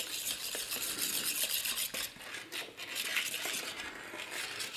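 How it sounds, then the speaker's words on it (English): Flour being stirred into a slurry in a bowl for pizza dough, a steady scraping, swishing mix with light clinks, close and continuous with no talking. "just give it a stir around, just pulling that flour into the center"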